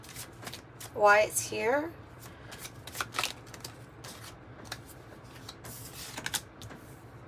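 Tarot cards shuffled and drawn during a reading: soft riffling and flicking bursts and light card snaps recur throughout, close and fairly quiet, with a voice speaking briefly over them.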